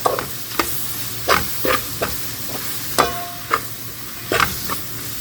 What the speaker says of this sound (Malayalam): അതെല്ലാം കൂടി ഇട്ടിട്ട് ഒന്ന് ഫ്രൈ ആക്കി എടുക്കാം ഒന്ന് ഫ്രൈ ആയി വരട്ടെ